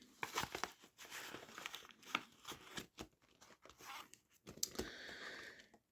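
Banknotes slipped into a paper savings envelope, giving close, quiet crinkling and rustling bursts of paper with brief crisp tearing-like scrapes, intermittent across the stretch with no talk.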